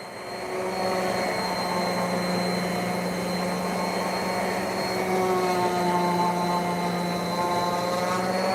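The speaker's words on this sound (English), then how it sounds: "That drum sander is a very welcome addition to this this wood shop." A drum sander in a wood shop runs with a steady, loud motor whine and a constant rushing drone that spins up at the start and holds evenly throughout.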